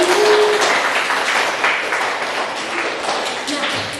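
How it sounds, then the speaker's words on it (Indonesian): A classroom group claps together in sustained applause that fades gradually over a few seconds, fairly loud and close, with a voice speaking over it. "Kita beri aplaus dulu."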